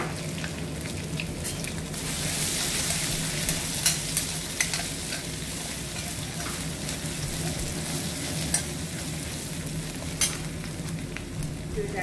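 Ginger garlic hitting hot oil gives a continuous dense sizzle with crackling, scraping stir strokes scattered throughout, close and steady for several seconds, with no one speaking.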